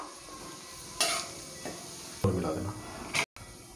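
Whole garam masala, kasuri methi and cumin sizzle in hot oil for an egg curry, with several short bursts of crackling and a longer frying hiss midway before a sudden cut.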